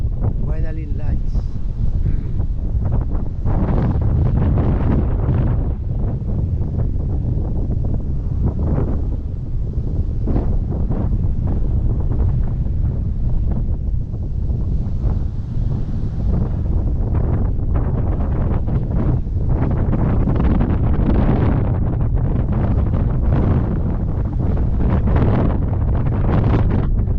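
Strong wind at a white-sand beach resort, gusting steadily into the microphone with heavy buffeting rumble and faint surf, while people talk over it.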